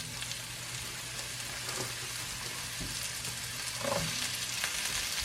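Zucchini fries in ghee in a pan with a bright, constant sizzling hiss and small crackles. A brief stir or clink comes partway through, and no one speaks.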